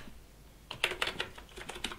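Quick bursts of keystrokes on a computer keyboard during a quiet library registration, starting after a short hush, then a close, soft run of clicks with brief pauses between bursts.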